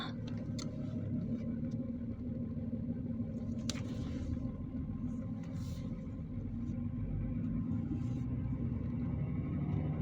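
A car driving along a beach road, a continuous low engine and road rumble heard from inside, steady and fairly loud, with a few faint clicks and no talk.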